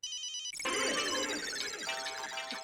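A mobile phone ringtone plays a loud electronic chiming melody in an office meeting, a short beeping tone leading into a bright cascading ring that fills the room, with no voices over it.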